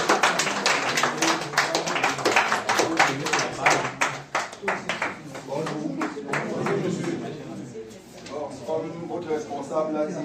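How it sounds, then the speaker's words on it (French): An audience at an IoT hackathon in Bafoussam applauds to welcome a speaker: a dense run of many hands clapping, steady and loud, easing midway then picking up again, with voices mixed in. "nous allons accueillir M. Pépin par vos applaudissements"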